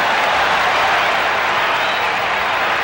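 A packed crowd cheers and applauds at a 1990 Syracuse versus North Carolina lacrosse game in the Dome, a dense, steady roar of broad noise filling the arena.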